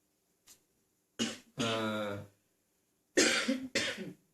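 A man coughs in a few harsh bursts, a faint one, then a cluster, then two strong coughs near the end, with quiet gaps between them in an indoor room.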